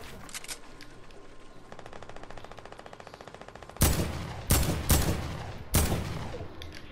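Rapid gunfire in the video game Fortnite: a steady mechanical stutter of shots gives way to four loud, sharp bursts spaced close together, with no talking.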